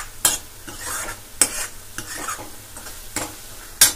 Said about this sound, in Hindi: अब हमें मसालों को तब तक भूनना है जब तक कि जो तेल है वो मसालों से अलग नहीं हो जाता।